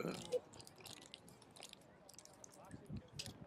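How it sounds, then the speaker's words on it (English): At a high school soccer game, a dog gnaws on a plastic water bottle, giving faint, scattered crunching and squishing bites over quiet background sound. "Now the dog's chewing on a water bottle."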